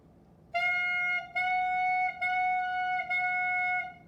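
Clarinet playing four sustained quarter notes on one pitch, each a clean tone separated by brief breaks, close and steady with no talking.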